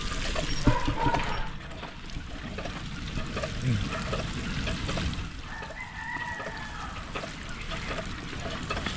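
Fruiting plants in a vegetable garden get watered, a steady soft trickle and spatter running throughout while roosters crow and hens cluck in the background.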